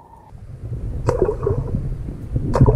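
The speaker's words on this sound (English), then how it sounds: "Let's learn together how it sounds in the water." An H&H FlexaFloat fishing cork with a weight on the bottom and rattling beads, popped on pool water, gives a couple of sharp splashy clicks against a gurgling watery background, fairly close and with no talking.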